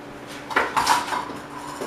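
A disposable 9 by 13 foil pan is handled with a few crinkly rattles and light metallic clatters close by, brief and moderate in level, with no talk.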